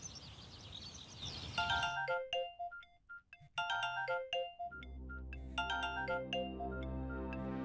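A phone ringtone plays a bright, repeating electronic melody of short chiming notes, ringing on with no answer. A low sustained hum sits underneath in the later part. No one speaks.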